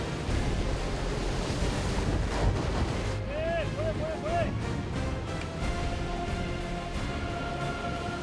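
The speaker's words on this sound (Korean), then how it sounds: "파도를 뚫고 달린 지 30여 분." Steady roar of a fishing boat pushing through rough ocean waves, with wind buffeting the microphone and a few faint chirping tones midway.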